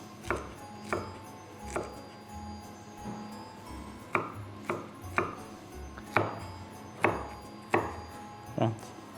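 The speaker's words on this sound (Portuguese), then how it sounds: "passamos ao pimento vermelho" A knife chops a red bell pepper into small cubes on a cutting board, about a dozen crisp, evenly spaced thuds, close and clear, with no talk.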